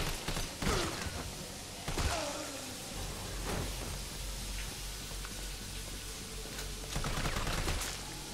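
Gunfire bursts from a Resident Evil 3 game scene, a few sharp shots near the start and around two seconds, then a steady rumble of rain-like noise with scattered cracks.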